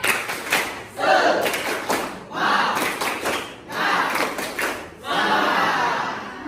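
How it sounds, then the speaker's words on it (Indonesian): A classroom of students performs a rhythmic spirit clap, bursts of clapping in repeated patterned groups with brief pauses between, fairly close and lively. "Tepuk semangat."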